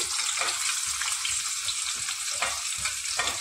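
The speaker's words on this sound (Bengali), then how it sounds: "এবার আমি যে কুচি করে রেখেছিলাম পেঁয়াজগুলো সেগুলো দিয়ে দিলাম।" Chopped onions hit hot oil in a pan for a chicken and potato curry, giving a steady, close sizzle and crackle with soft, repeated stirring scrapes underneath.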